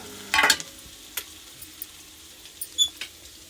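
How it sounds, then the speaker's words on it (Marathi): Spice masala with cumin frying in a pan, stirred in bursts: a short sizzling rush, then scattered clicks and scrapes of the utensil against the pan, otherwise fairly quiet. "मसाला चांगला परतून घ्यायचा."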